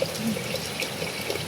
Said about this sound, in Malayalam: കുറച്ചും കൂടെ വെള്ളം